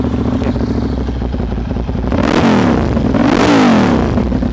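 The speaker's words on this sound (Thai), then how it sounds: "มาฟังเสียงเครื่องกันเลยฮะ" A 2013 Ducati Monster 795 motorcycle engine revs close up, a steady rumbling idle climbing into two loud throttle blips that rise and fall in pitch.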